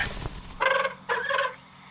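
A bird calls in the video game The Lord of the Rings: Gollum, two close, loud, harsh squawking bursts in quick succession with no talk.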